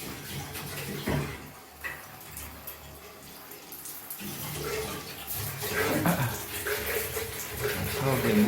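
Water gushes and sprays steadily from a shower head fed by a wood-stove water heater, rising louder toward the end, with a person talking briefly over it.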